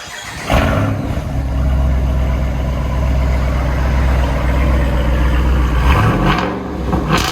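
A deep 6.4L V8 exhaust on a 2022 Jeep Wrangler Rubicon 392 with active exhaust and resonator delete rumbles at a steady idle for several seconds, close and loud, with a quick throttle blip near the end.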